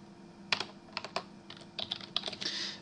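Scattered keystrokes on a computer keyboard while a word is typed in a Xamarin designer, a few separate clicks then a quick run of taps toward the end, nearby and with no speech.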